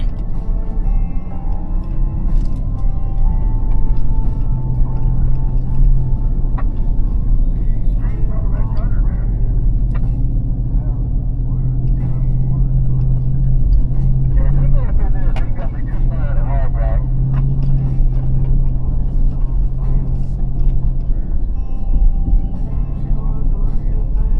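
A four-wheel-drive vehicle grinds down a rough rocky trail on the White Rim and Alpine Loop route, a steady loud low engine drone with bumps and rattles throughout and people talking over it.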